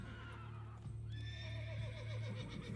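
A horse whinnies inside The Witcher 3: Blood and Wine, a long rising neigh that breaks into a shaky, fluttering whinny, loud and close, with a steady low game hum beneath and no talking.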